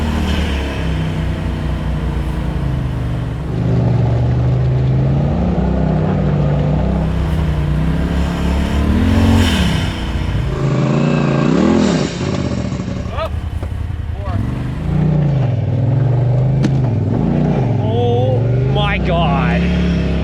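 A side-by-side UTV in two-wheel drive on an icy winter trail, its engine droning and revving up and down close by with rattles and clatter over the bumps, while people talk over the noise throughout.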